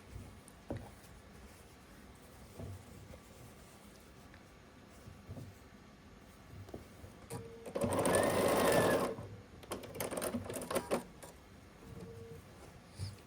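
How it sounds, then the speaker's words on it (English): An electric sewing machine stitches a seam across a mini quilt, running in a loud, fast whirring burst of about a second, then a shorter rattling run, with quiet handling sounds between. "I'm gonna take one of them and we're gonna turn the whole quilt and sew it this seam right here."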